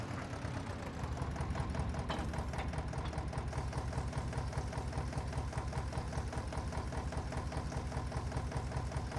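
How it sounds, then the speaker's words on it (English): A mini tractor engine idles in Farming Simulator 22 with a steady, fast, evenly pulsing chug, near and constant throughout, with no voices. "Look at this mini tractor. Oh, that is beautiful. It sounds amazing too."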